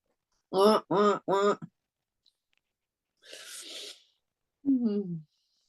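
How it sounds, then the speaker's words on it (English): A goose calls near a person during a session, three quick nasal honks in a row, then a breathy hiss after a pause, and one more descending honk, all close and clear against a quiet room. "there's a goose here. I don't know why the goose is here because he's quacking away"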